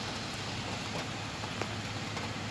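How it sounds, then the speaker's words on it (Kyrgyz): Heavy night-time rain in Moscow falls as a steady, broadband hiss with a faint low rumble and occasional soft splashes, continuous and unbroken with no speech. "жамгыр аябай катуу жаап атат."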